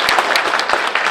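A short, lively burst of audience applause at a Korean social safety association's general meeting, many hands clapping together loudly and evenly throughout.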